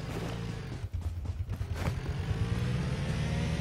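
A car in a video game driving off, its engine rising in a steady revving drone with a brief dip, loud and continuous throughout.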